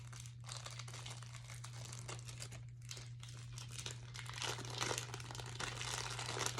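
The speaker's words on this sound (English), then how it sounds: "They usually come in a pouch like this, and it's going to be a plastic sheet" Crinkling of the plastic pouch holding a CPR face shield: continuous close, rustling crackle that grows a little louder toward the end, over a steady low hum.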